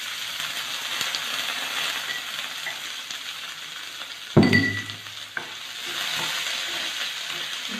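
Carrot, then tomato, dropped into a hot pan, a continuous sizzle broken by one sharp loud burst as the vegetables hit the oil, then stirring and a renewed hiss.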